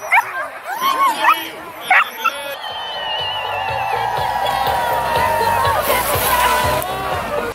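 Sled dogs bark and yip excitedly at the start area of the Beringia race at a biathlon complex in Kamchatka, with sharp barks early, then a steady din of many dogs and crowd noise, with people talking nearby.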